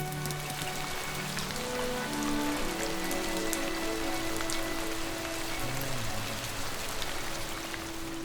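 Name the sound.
rain falling at Leeds Castle, England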